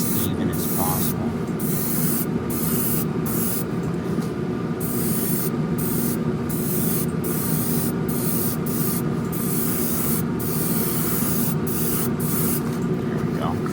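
Spray paint hisses steadily in short repeated bursts as red is laid over silver on a 1968 Pontiac Firebird scale model, close and continuous across the whole stretch.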